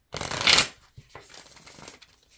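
A sticky deck of tarot cards shuffled up close, a brief sharp riffle burst followed by softer rustling and handling of the cards.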